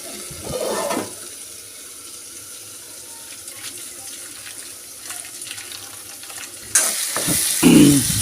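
Vegetables sizzling and frying in a pan while making chana dal, a steady close crackle with stirring clatter, then a louder burst of running water near the end.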